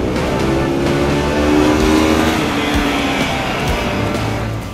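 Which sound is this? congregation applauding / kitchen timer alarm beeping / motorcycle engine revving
motorcycle engine revving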